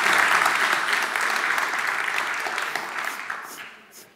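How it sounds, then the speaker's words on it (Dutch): Warm, sustained applause from an audience at a late-night tech talk on internet freedom, loud at first and gradually thinning out over about four seconds, with no speech over it. "Dames en heren, hartelijk applaus voor Rutger Muller."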